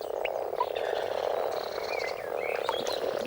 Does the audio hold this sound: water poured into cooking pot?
no